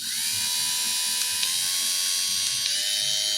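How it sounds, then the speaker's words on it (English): A PEIYUU electric fabric shaver runs alone with a steady, loud, high-pitched motor whine and buzz that holds at one even pitch, with a couple of faint clicks partway through. "is the PEIYUU fabric shaver, and it has 3 speeds, so I'm gonna run it for you first"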